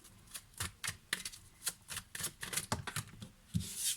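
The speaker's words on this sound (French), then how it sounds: "si les cartes ne tombent pas, je coupe et je prends" A deck of tarot cards being cut and shuffled nearby, heard as a quiet run of soft riffling slaps and taps in an uneven rhythm, with no voices.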